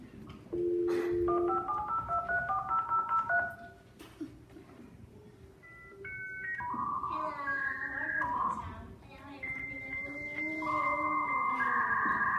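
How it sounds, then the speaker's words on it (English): A dial-up modem connects to the internet, opening with dialing tones, then running through a long, moderately loud sequence of warbling beeps, screeches and hissing handshake noise, with no speech over it. "Here's what it sounded like to get on the internet when I was growing up."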